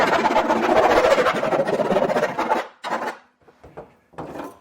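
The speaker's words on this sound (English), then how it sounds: "And you're going to want to file down the edges if there is a lot of burrs on here." A hand file rasps over burrs on the freshly cut metal edge of a truck bed hole, a close scraping run of strokes that then breaks into a few shorter, separate passes.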